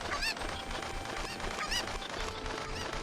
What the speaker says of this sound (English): So we're gonna just throw these chickens in a pen